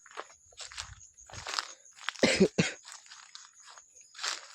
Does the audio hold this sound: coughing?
yes